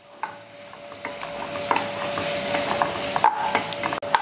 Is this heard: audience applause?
no